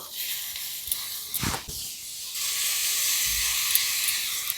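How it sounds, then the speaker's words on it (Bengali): Grated bottle gourd dropped into hot ghee, giving a loud steady sizzling hiss that bursts up and then settles into continuous frying noise. "ঘিটা গরম হয়ে গেছে, এই লাউটা দিয়ে দেব।"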